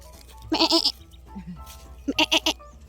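A goat bleats nearby in two wavering calls separated by a pause, with faint background sounds between them.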